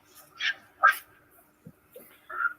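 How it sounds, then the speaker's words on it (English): A loud dog barks several times in short, sharp bursts spaced irregularly, with a brief lower thump between them and no talking. "He barked back."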